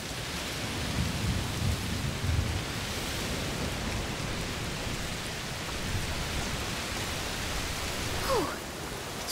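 A thunderstorm in A Plague Tale: Requiem rolls on with a steady heavy rain hiss and low thunder rumbles early on, continuous and fairly loud, with a brief higher sweep near the end.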